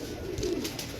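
Large-boned pigeons in a keeper's loft give a soft, low coo that rolls through the middle of the moment. Faint background rustle is heard, with no talking.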